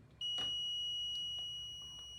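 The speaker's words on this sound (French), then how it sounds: "Lorsque vous êtes à 10 cm du buzzer, le buzzer sonne et la LED s'allume." A small Arduino buzzer in a home-automation project sounds when an object comes within 10 cm: one steady, high-pitched electronic beep held for about two seconds, close and clear, slowly fading slightly.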